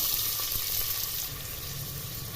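Onion pieces and three green chilies sizzle in hot oil in a pan for a curry, a steady, close, crackling fry with no talking.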